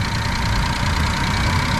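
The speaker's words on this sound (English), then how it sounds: "So what I'm gonna do right now is turn on the car" Suzuki Jimny engine idling just after start-up, fitted with a Blitz blow-off valve kit, a loud, steady low rumble with constant broadband mechanical noise and no voices.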